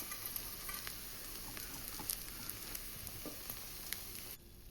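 Potato masala kuli paniyaram balls fry in a pan, a soft continuous sizzle with small crackles and occasional light pops, faint and close, then cutting off near the end.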